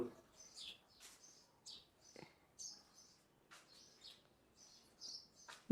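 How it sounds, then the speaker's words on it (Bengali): Sparrows chirp in short, scattered bursts on the rooftop of an old zamindar house, faint and somewhat distant, with quiet gaps between the calls. "পাখির কিচিমিচির শব্দ শুনতে পাচ্ছি"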